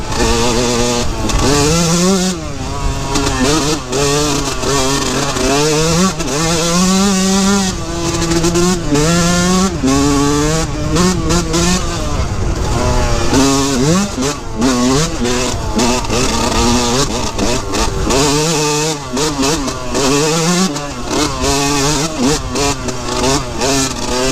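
A Yamaha YZ125 dirt bike is ridden through the Colorado Rockies, heard from the rider's position. The engine is loud and close and revs up and down constantly, with wind noise rushing underneath.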